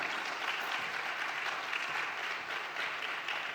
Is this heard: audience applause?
yes